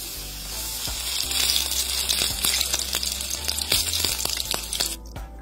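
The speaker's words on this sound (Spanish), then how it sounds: "nuestros pequeños emparedados hasta cubrirlos por ambos lados y los ponemos a sofreír" Small sandwiches frying in a pan of hot oil, with a steady, loud, close sizzle and crackle that runs throughout, scattered with sharp pops and a few stirring scrapes before it cuts off near the end.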